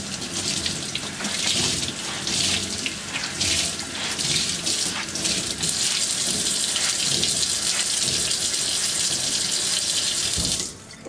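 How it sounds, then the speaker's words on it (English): Tap water runs steadily into a sink as a white t-shirt is soaked for tie-dyeing, a loud, close, continuous splashing gush that stops abruptly near the end. "I'm gonna go get it wet really fast at my sink."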